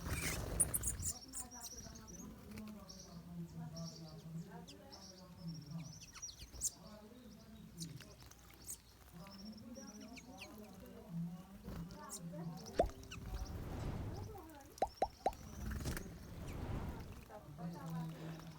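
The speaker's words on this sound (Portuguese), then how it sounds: "várias aves tomando banho." Several wild birds bathe in water outdoors while someone talks over them through most of the stretch, with faint chirps, occasional splashy drips and a few sharp clicks near the end.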